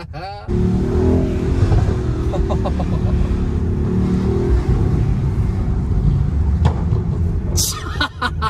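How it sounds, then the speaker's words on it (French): Loud road traffic with a car's modified exhaust rumbling past, a steady low roar filling the clip from just after the start, with brief sharper noise bursts near the end and people talking over it. "il y a l'échappement modifié aussi"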